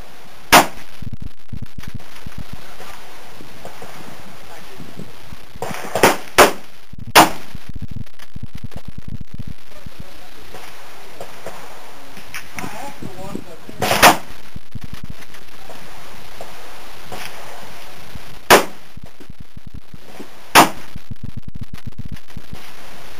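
Mosin Nagant M38 bolt-action rifle fired at 50 yards, about nine sharp loud reports spaced irregularly across the stretch, some in quick pairs, each with a brief ringing tail over a quiet outdoor background.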